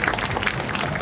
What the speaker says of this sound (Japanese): 皆さん大きな拍手でお送りください。